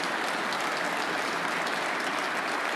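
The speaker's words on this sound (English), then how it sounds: "you could hear the applause for Stephen Maguire" Steady applause from a snooker crowd for a player in another match at the 2023 Northern Ireland Open, dense and even throughout, moderately loud with no talking.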